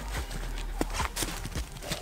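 A donkey's hooves clip-clop over a hard surface: a handful of sharp, close hoof strikes in an uneven walking rhythm over low background noise.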